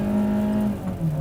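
A 2020 Hyundai Creta's engine hums at a steady pitch, then the tone shifts and climbs slightly as the car begins to accelerate, close and fairly loud inside the car.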